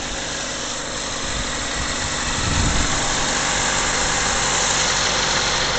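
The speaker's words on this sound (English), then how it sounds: "Car doesn't sound half bad for a little four banger." A small four-cylinder car engine idles with no exhaust system fitted, giving a steady, moderately loud rumble that holds even throughout and swells slightly midway.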